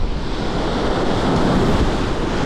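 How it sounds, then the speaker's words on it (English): Strong wind buffets the microphone over crashing waves on Devils Lake while fishing for walleye and white bass from a boat, a loud, constant roar with no talking. "The wind's crazy right now."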